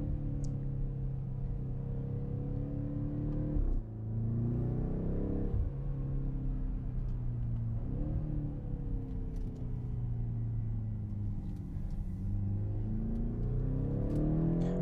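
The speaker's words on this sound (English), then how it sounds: "As you can hear, the gear changes are pretty crisp, but this car does have an automatic." A BMW X5 M (F85) with an automatic gearbox accelerating, engine drone rising in pitch then dropping sharply at each crisp gear change, repeated several times, steady and close from inside the car.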